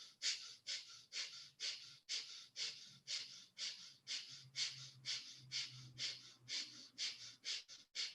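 Rhythmic deep breaths during a guided breathing exercise, about fifteen quick, even inhale-exhale cycles in steady succession, close and fairly soft, with no talking.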